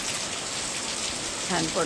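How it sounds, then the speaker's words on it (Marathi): Steady hiss of monsoon rain falling in the Konkan region, constant and enveloping, with a brief faint voice near the end. "खूप छान पाऊस पडतोय बघा पाऊस बघा"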